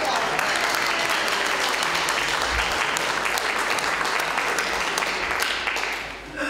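A community band audience at a Christmas concert in Grace Episcopal church claps in a steady, dense round of applause that holds evenly and then eases off right at the end.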